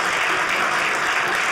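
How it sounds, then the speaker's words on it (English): An audience at a comedy show claps steadily, a dense, even wash of applause filling the room without a break. "You clapped as if you knew."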